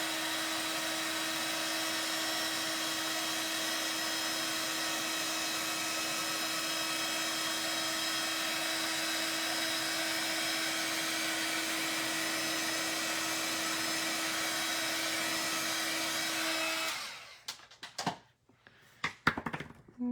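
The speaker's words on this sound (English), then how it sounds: "we're gonna turn on my heat tool, and I like to have something hold it while I emboss because it gets really hot" Heat embossing tool blowing hot air for stamped craft work, a steady close whirring fan hiss with a high whine running for most of the clip, then shutting off into scattered handling clatter.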